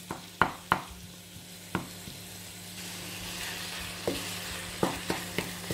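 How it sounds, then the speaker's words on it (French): Minced meat for stuffed aubergines sizzles steadily in a pan while a utensil breaks it up, with several sharp scrapes and knocks against the pan over the continuous frying hiss. "Il faut casser la viande hachée comme ça pour qu'elle cuise uniformément."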